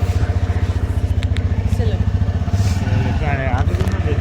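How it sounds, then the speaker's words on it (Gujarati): A new tractor's engine chugs in a fast, even rhythm close by and fairly loud, while people talk over it. "આ છે આપણું નવું ટ્રેક્ટર"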